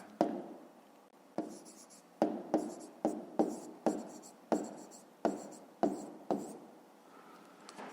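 A pen writes numbers by hand on paper in a series of about a dozen short, close, scratchy strokes with brief pauses between them, and no voices.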